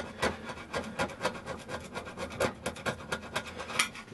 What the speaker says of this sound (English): Let's see what I can find to scratch it off with. So yeah, just a screwdriver